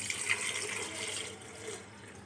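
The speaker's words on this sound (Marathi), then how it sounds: "ह्याच्यात मी पाणी टाकते." Water pours into a clean metal kalash pot, a steady close-up splashing flow that thins out toward the end.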